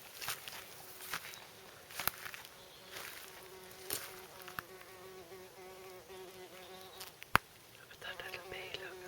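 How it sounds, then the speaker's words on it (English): A small wild bee buzzing near its nest in a permaculture garden: a steady, faint, close drone with slight pitch wavering, a few soft footsteps and rustles underneath. "Look at that little bee, look. I reckon it's going to go into its nest."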